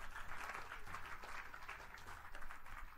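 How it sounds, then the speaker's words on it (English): A church congregation claps hands in a continuous, even patter of many hands, fairly faint and distant, with no clear voices over it. "Clap your hands to the name of the Lord."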